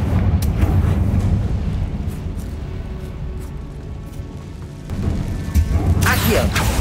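A Confringo blasting curse in Hogwarts Legacy erupts in a loud, sustained booming rumble layered with game effects, with a fresh burst of blast noise near the end.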